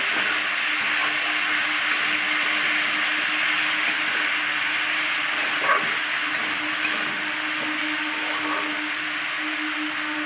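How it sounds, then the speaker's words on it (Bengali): Vegetables frying in a pan for sago pulao, a steady broadband hiss and sizzle with faint crackles running continuously and evenly throughout. "আনাজগুলো ঢেলে দিয়েছি, এবার আমি ওটা একটু ভেজে নেব"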